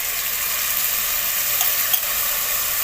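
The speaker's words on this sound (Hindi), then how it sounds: "ये सारी दाल अब हम इसके अंदर डाल देंगे" Soaked red masoor lentils go into a sizzling tomato masala, producing a loud, continuous hiss of frying that holds steady throughout with no voices.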